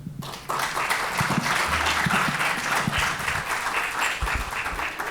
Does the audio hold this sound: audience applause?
yes